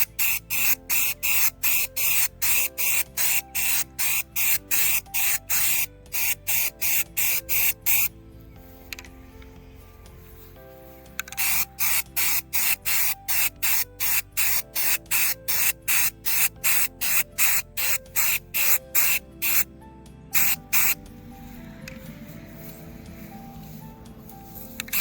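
White stain-blocking primer sprayed onto vintage end tables: rapid, evenly pulsing spray bursts, close and loud, in two long runs separated by a short quiet gap, with no voices.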